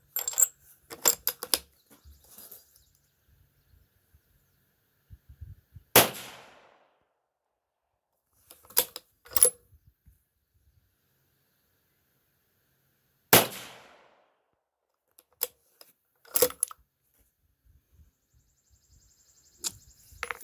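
Several sharp .223 Remington rifle shots firing cast Lee 225-55 bullets, not gas checked, loaded with Hodgdon Titewad powder and Federal 205 small rifle primers, spaced irregularly over a quiet outdoor range with faint clinks between.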